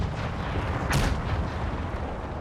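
Franco-Prussian War battle game with a sharp burst of artillery and musket gunfire near the one-second mark, rising from a dense, steady roar of distant battlefield noise, no voices.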